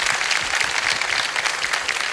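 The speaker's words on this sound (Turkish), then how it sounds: "Seyhan Güler Hanım'a bir alkış rica ediyorum" Sustained audience applause at a Turkish music concert night, many hands clapping steadily and close, with no break and no talk over it.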